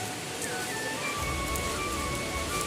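Rain falls steadily in Guwahati, a continuous soft hiss of drops with faint tonal hums from the surroundings in the background.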